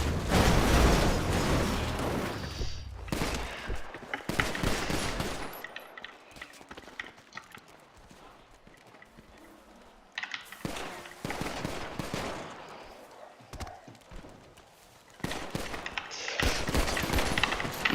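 Bursts of automatic gunfire in the FiveM roleplay game, loud rapid volleys at the start and end with a quieter stretch between, mechanical clicks and distant shots in the gap.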